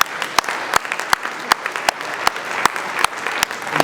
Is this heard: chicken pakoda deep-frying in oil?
no